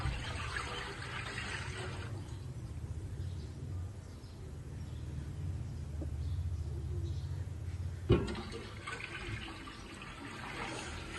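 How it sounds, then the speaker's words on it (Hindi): Water from two jugs poured steadily into a cooking pot for Punjabi sarson ka saag, a continuous close splashing rush that briefly eases and then resumes after a small knock. "अब मैंने एक देगची ली है, उसमें 2 जग मैं पानी के शामिल कर रहा हूँ।"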